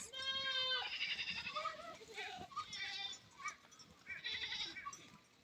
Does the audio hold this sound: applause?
no